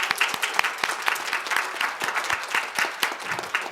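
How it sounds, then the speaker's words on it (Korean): An audience at a Latin America cooperation center symposium talk concert claps steadily and densely in a hall, with no break in the applause, at moderate loudness. "다시 한번 참석해 주신 우리 모든 분들과 우리 세 분 전문가 분들께 큰 박수 한번 부탁드리겠습니다."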